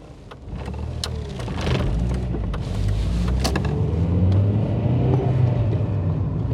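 A Volkswagen Polo Mk3 (6N2) accelerates in town to overtake a bus. A low engine rumble builds and holds steady from inside the cabin, with no talking.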